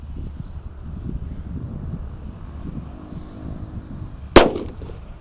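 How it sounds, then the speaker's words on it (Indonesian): A colorful sweeter paper-wrapped firecracker bursts inside a hole in the ground, one sharp loud bang late in the clip after a stretch of quiet outdoor rumble. "Selanjutnya kita nyalakan mercon colorful sweeter di dalam lubang tanah."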